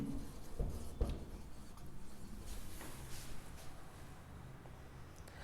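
Chalk or marker scrapes across a board during a geometry lesson on circles, a few soft strokes and taps amid faint room noise, with no talking.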